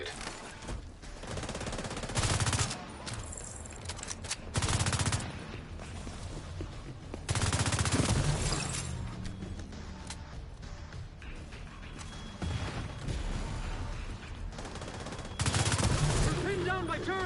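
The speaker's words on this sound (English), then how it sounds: "We're pinned down by turrets at the main gate!" Turret gunfire in The Division 2 shooter game, repeated bursts of rapid automatic shots separated by short pauses, loud and close, with quieter game ambience between bursts.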